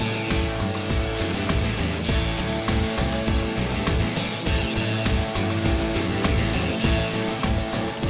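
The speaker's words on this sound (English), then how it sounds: "the secret now is to get that bacon really nice and crispy" Bacon frying in olive oil in a hot pan crackles and spits steadily, close and even, with a constant popping sizzle and no talking.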